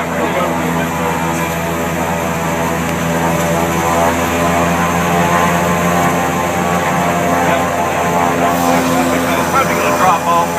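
Twin turboprop engines of a Beechcraft King Air run steadily on the ground at a school airfield, a loud, close, continuous drone layered with tonal propeller hum and a high whine, holding even for the whole stretch.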